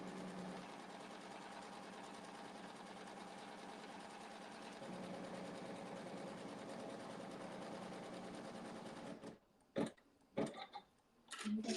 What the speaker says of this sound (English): It's going to sew around the perimeter to show us where the block is.